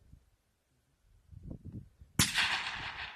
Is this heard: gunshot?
yes